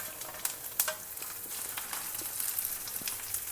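Cashew nut bits, raisins, ginger and green chilies sizzle and crackle steadily as they are sauteed in a pan, with sharper pops and stirring scrapes rising over a continuous frying hiss, close and moderately loud with no speech.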